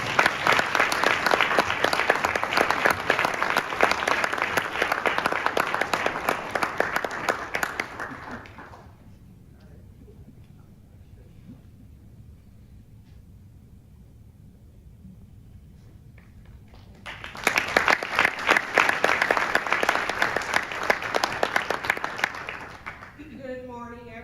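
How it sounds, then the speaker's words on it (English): Audience applause at a local award presentation honoring police officers: sustained loud clapping for several seconds, a quieter lull, then a second burst of clapping before it fades out. "Round of applause, please."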